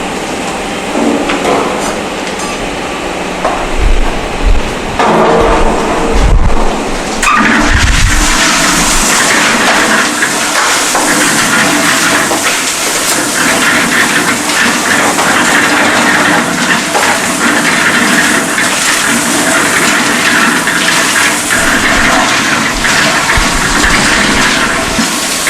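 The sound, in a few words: concrete mixer mixing coarse and fine aggregate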